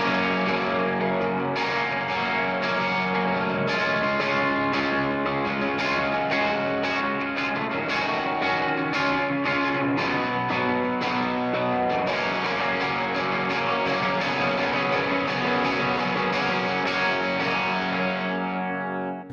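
Electric guitar with a light dotted delay and light reverb plays a sustained repeating pattern of picked notes, loud and steady throughout with no talk.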